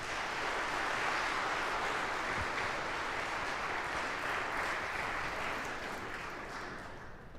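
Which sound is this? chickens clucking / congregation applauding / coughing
congregation applauding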